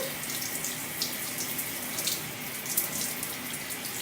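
Tap water runs steadily and fairly loud while shampoo is rinsed out of natural curly hair, a continuous hiss with small splashing shifts.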